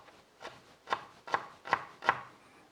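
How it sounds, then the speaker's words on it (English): A knife chops finely through shallots on a cutting board in five evenly spaced, crisp strokes that grow slightly louder, with no talking. "Just do a fine chop on both of these shallots"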